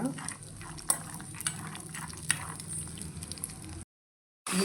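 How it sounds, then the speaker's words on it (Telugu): Peanuts dry-roast in a pan with a soft, constant rattle and scraping as they are stirred, with occasional sharp clinks of the spatula, then a brief silence. "పల్లీలు వేయించుకోవాలి బాగా"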